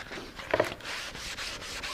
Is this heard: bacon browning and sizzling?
no